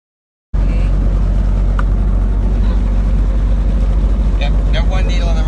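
A helicopter engine starting up on the ground, a loud low rumble and whine that kicks in abruptly and holds steady, with faint voices over it.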